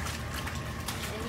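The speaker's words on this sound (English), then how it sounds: "now we're going to just start rinsing" Raw wool fleece being rinsed in a bowl of water, with steady close sloshing and trickling, no clear pauses, and faint talk beneath.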